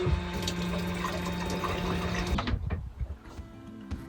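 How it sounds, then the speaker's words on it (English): Water runs steadily from a sink tap in a van kitchen for a couple of seconds, then cuts off, leaving gurgling drips as it drains away. "I've got running water!"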